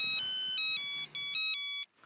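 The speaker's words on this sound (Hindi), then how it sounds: "एक मिनट फोन है शायद" A phone ringtone plays a bright, repeating electronic melody of short tonal bursts, clear and close, then cuts off.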